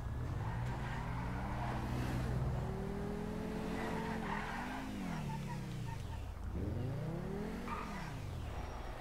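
An Överflöd Imorgon sports car in GTA Online accelerates hard with a loud rising engine note, then skids with squealing tyres as the revs swoop up and down repeatedly; no speech.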